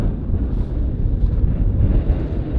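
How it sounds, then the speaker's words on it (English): Strong coastal wind in the far north of Scotland on a sunny, cold day, a continuous low rumble of gusts battering the microphone with no voices. "It's very windy and actually pretty cold despite the sunshine here."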